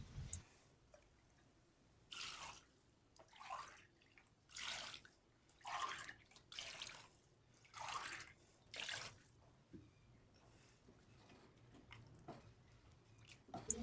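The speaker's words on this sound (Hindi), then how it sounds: "चलें पानी डाल देते हैं।" Water is poured into a pot of chicken feet (panja) for a Pakistani dish, arriving in about seven separate splashing bursts with short quiet pauses between them.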